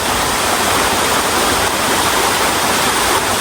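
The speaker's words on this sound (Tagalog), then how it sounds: "Ito yung falls." Binuwang Falls roars steadily and loudly, a dense, unbroken rush of falling water with no pauses or voices.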